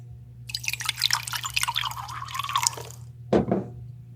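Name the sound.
pouring chilled water into a glass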